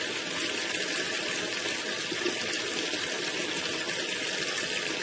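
A pump moving rainwater from a raised water butt into a storage tank, giving a steady, constant rushing water flow with an even hum, unbroken and fairly loud.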